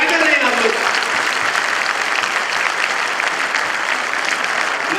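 Loud, dense clapping from a crowd at a school event in Delhi, a steady wash of applause sustained throughout with a voice briefly audible at the start.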